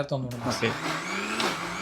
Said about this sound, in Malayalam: ആദ്യം മീൻ മാത്രം അരച്ചിട്ട് അരച്ചിട്ട്